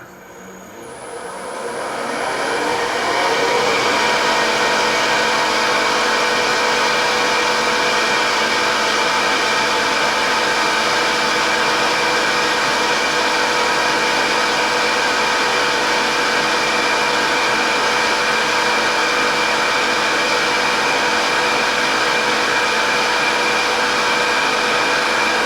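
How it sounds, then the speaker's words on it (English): A mini lathe spun up to full speed for pen turning spools up over a few seconds into a loud, steady, high-pitched whine and hum that holds constant throughout. "then we're going to crank our lathe up"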